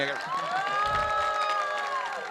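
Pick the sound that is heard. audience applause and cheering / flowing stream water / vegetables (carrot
audience applause and cheering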